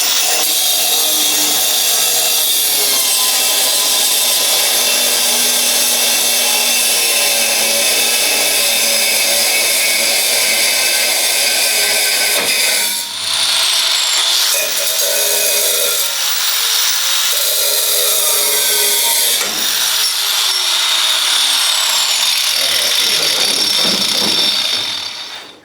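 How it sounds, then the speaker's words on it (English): A power tool grinds bolts off a metal Apache bed frame, running as a loud, harsh, continuous whine close by for the whole stretch, with the pitch and grit of the cut shifting partway through. "We could just grind it off."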